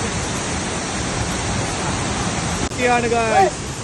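Puli Kode waterfall in Kasaragod, Kerala, a loud, steady broadband roar of falling water filling the scene up close, with a person's voice briefly speaking over it near the end.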